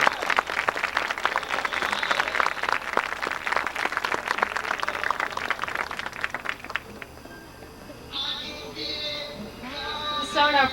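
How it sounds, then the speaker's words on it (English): A crowd at a 1991 high school homecoming football game applauds the previous year's homecoming queen, with dense, sustained clapping for several seconds before it fades and an announcer's voice takes over over the public address. "Let's have a round of applause for our last year's queen."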